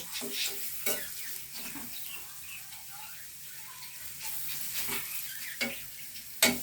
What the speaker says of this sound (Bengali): এবার মাছগুলো দিয়ে দিলাম